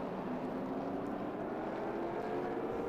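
A Trans Am race car at Sonoma Raceway accelerates on the throttle, a steady mid-distance engine drone with a slowly rising tone, fairly faint under broad background noise.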